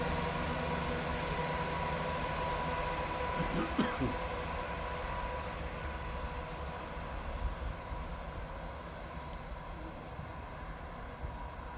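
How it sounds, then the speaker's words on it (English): A Scotrail train departs Edinburgh Gateway, heard as a constant low rumble and broad wash of noise with a brief clattering burst early on, while a voice speaks over it. "departing out at the same time is the 1159 Scotrail service from Dundee to Edinburgh Waverley"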